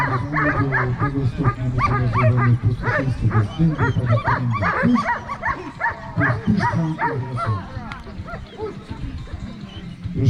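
Several German shepherds bark repeatedly in an overlapping, continuous chorus at a dog show protection demonstration, loud and close, with some whining mixed in.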